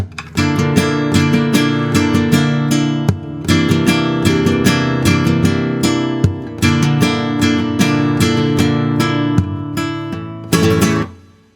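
A flamenco guitar plays a molinillo rasgueo slowly, with strummed chords in steady rolling bursts, loud and close, and the pattern repeats continuously until a final strum.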